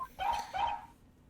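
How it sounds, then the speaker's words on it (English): A police dog in the Ace Attorney Investigations video game gives two quick, bright barks in succession, clear and close, followed by quiet. "That's a police dog Gumshoe's been taking care of."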